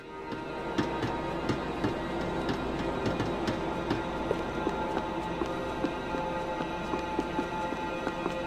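Trams run through a station in the video game Max Payne 3, a continuous rolling rumble with regular rhythmic clacks of wheels over rail joints, steady and moderately loud throughout.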